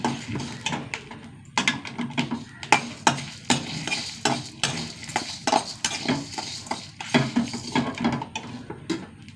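Dried red chillies and fenugreek seeds roasting in a pan, with a spoon stirring and scraping repeatedly in irregular bursts over a soft dry crackle, close and fairly loud, with no talking.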